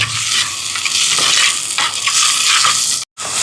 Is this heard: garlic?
yes